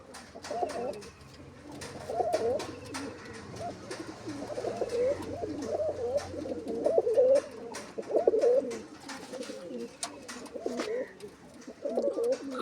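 At a pigeon sale, pigeons keep up a dense, continuous cooing close by, throaty phrases rising and falling over scattered clicks and rustles, with no talk over it.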